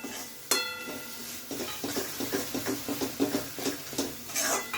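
Ground masala paste sizzles as it is sautéed in a pan for a spicy prawn curry, with a soft continuous hiss broken by repeated scraping and stirring clinks of a spoon against the pan.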